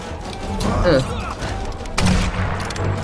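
Gunfire in the Tomb Raider video game: a couple of sharp bursts of shots at about one and two seconds, with speech and game sounds around them.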